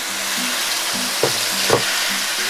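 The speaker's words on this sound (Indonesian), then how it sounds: "Minyaknya sudah panas. Saya tumis dulu. Ini bumbu yang sudah di blender kasar ya." Coarsely blended chili paste for a squid and petai sambal sautés in hot oil, giving a steady close sizzle broken by a couple of sharper stirring scrapes, with no talking.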